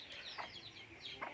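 A native mother hen clucks softly, two or three short clucks spaced apart, faint and close, with a few chirps around them.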